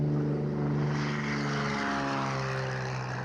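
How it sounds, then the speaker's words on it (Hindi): A Cessna propeller plane fitted for cloud seeding takes off from Kanpur, its engine a loud steady droning buzz with strong low tones, slightly shifting pitch as it climbs, no voices. "ये देखिए, खास तौर पर दिल्ली के ऊपर क्लाउड सीडिंग करने के लिए ये इसका टेक ऑफ है"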